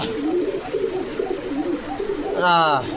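Pigeons cooing at a pigeon farm in Bogura, soft repeated low coos close by, with a voice talking over them.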